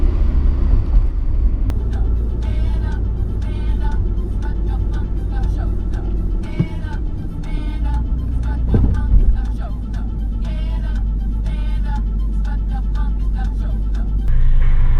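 A steady low road rumble and engine drone fill the cabin of a high-mileage Honda car with about 360,000 km, driven slowly near a 40 limit. A voice talks over the continuous noise throughout.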